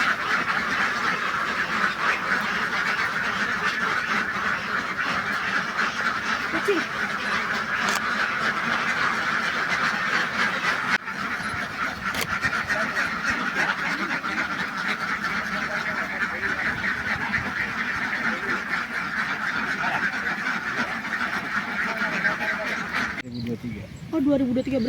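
Dense, continuous quacking from a large flock of laying ducks at a duck farm in Rorotan, filling the whole stretch with a steady chorus, while someone speaks briefly over it.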